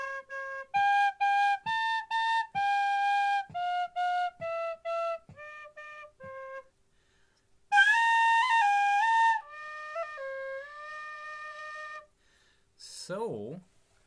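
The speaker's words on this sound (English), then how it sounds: "So that's how I play the same note as the one on that whistle." A Clark tin whistle in C plays a run of short, bright, clear notes in a steady rhythm, then a longer held high passage and a sustained lower phrase, ending with a quick sliding squeal, close and fairly loud.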